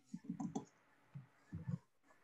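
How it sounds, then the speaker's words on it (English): Clicking keys on a computer keyboard while entering search keywords, in two short bursts of quick taps separated by a pause, close and fairly quiet. "I'm just typing some random keywords here as I'm hearing some of them."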